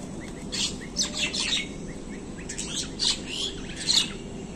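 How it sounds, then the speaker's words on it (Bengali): Birds chirp and tweet in short, bright bursts on a cool morning after rain, with a mix of species that includes myna and dove. The calls are moderately near, over a steady low background hum. "ঘুঘু পাখি"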